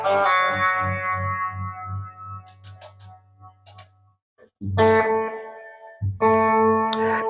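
Guitar notes ring out with repeating echoes trailing behind them in time, pausing briefly before new chords sound with the same rhythmic repeats.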